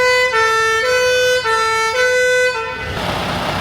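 Fire engine warning device set off by a floor-mounted button, sounding as a loud two-tone hi-lo siren that alternates steadily for several cycles, then cuts off into a noisy burst.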